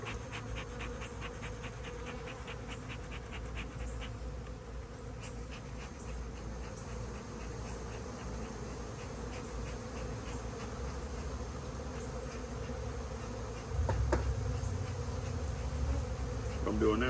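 A swarm of honeybees buzzes densely around a nuc hive hanging in a tree, a steady close drone of many wings that grows louder near the end, with no voices.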